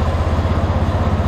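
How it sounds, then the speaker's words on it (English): An old tractor that sat flooded for over ten years, used as a jump-start source, idles steadily nearby with a low, even engine rumble and faint clatter throughout, with no talk over it. "I have my jump start tractor over here idling."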